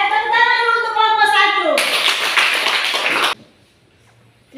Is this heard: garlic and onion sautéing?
no